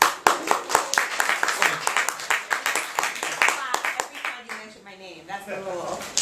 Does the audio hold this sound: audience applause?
yes